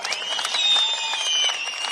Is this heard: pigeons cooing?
no